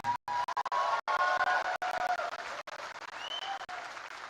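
An audience claps and cheers at the Tiprasa cultural festival in Bangalore, loud continuous clapping with a few scattered cries, heard close and alone, with a sudden cut partway through.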